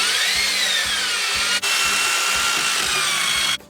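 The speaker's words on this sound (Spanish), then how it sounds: "Ponemos aquí el taladro" A power drill runs at a steady whine in a clay ornament workshop, cutting out briefly near the middle and then resuming before stopping at the end, with no talking.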